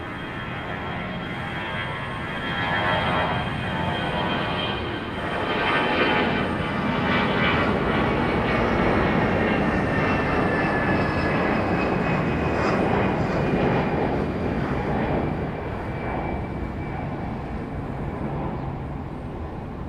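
An airliner departs from Raleigh-Durham International, its engine roar building and peaking mid-way, then easing, with a whining tone sliding across and no speech.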